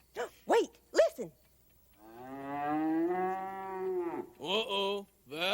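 A cow moos in a cattle-country setting, a series of short calls followed by one long, drawn-out low moo and a few more brief lows, clear and close.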